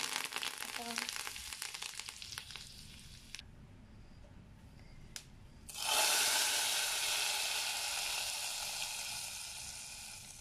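Mustard seeds, urad dal, fenugreek, dried chilli and curry leaves are dropped into hot oil for a sambar tempering. After quiet clinks and stirring, a sudden loud, close sizzle erupts and keeps crackling.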